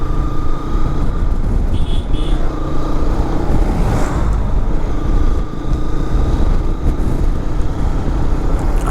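Motorcycle riding along Cox's Bazar beach, a constant loud engine drone mixed with wind rush, steady throughout with no talk.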